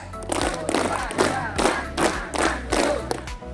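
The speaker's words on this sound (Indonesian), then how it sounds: "Tepuk tangan dihitung 7 kali." Scouts at a character-building camp clap their hands together in a group, roughly seven loud, slightly uneven claps from a crowd, with voices mixed in around them.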